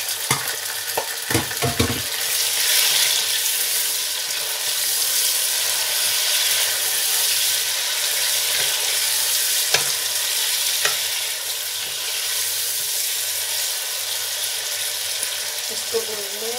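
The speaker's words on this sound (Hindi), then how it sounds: "चिकन को शामिल करके इसको भूनेंगे।" Chicken frying and being stirred in a pan while cooking pulao, a steady loud sizzle with occasional scrape and clatter of the spoon, continuing without a break and no talking over it.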